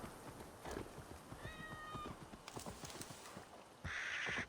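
A cat mount in the video game Assassin's Creed Valhalla gives a short meow over steady hoof clip-clop and in-game ambience, with no talk.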